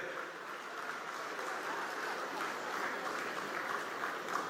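Audience applause for Rakesh Jain at a public political speech in Dharmasthala: steady, dense clapping from a crowd that holds at an even level throughout, with no clear voices above it.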